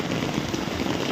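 Heavy rain pouring down at Digha beach, a dense, steady roar of drops hitting the surface close by with no pauses.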